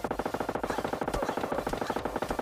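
Rapid automatic gunfire from a PUBG Mobile Lite match, dense bursts of shots firing almost continuously at close range with no talk over them.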